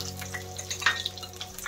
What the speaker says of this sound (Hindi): तेल गर्म ही है, इसी तेल में मैंने आलू को फ्राई करना है।